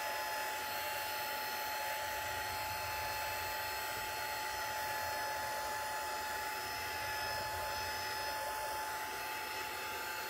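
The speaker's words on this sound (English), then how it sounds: "I'm just going to give this another quick dry" A hair dryer blows steadily on a painted watercolour background made with inks and oxides, a constant loud whooshing roar with a high whine that holds for the whole stretch without pause.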